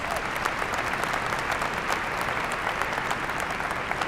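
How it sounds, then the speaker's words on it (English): Conference audience at an international AIDS plenary session applauding, a dense, steady wash of many hands clapping, loud and continuous throughout. "I think we have to applaud Malawi for being so bold to actually provide this"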